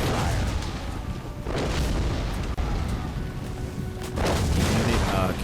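Booming artillery barrages and rolling gunfire from a Napoleon: Total War battle between Russia and France, modified to simulate World War I, rumble continuously at moderate level with brief sharper blasts.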